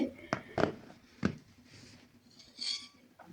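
A homemade chicken cheese pizza comes out of the oven with a few close pan and utensil clanks, then a short scrape and quiet handling sounds.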